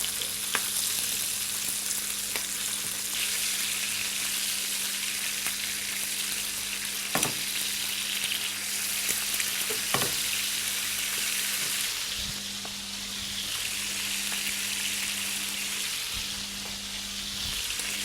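Liver and quails fry together over fairly high heat in a restaurant kitchen, a loud, steady sizzle with a low hum behind it and occasional sharp clicks of the pan and utensils.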